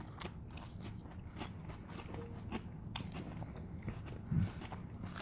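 A dog bites and chews on an apple, producing a series of small crunching bites over several seconds, with one louder crunch near the end, against a faint indoor background.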